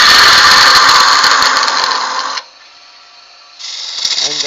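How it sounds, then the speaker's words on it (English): Bowl gouge cutting wood on a spinning lathe: a loud, steady, harsh scraping whine for a couple of seconds, then a pause of low hum before the cutting squeal resumes. "So I start with the bowl gouge to do a straight cut."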